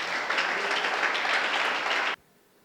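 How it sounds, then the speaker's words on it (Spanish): A church congregation applauds the Lord, steady dense clapping at moderate level for about two seconds before stopping abruptly. "Dale un aplauso al Señor."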